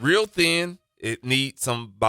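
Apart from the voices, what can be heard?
No everyday noise stands out behind the speech.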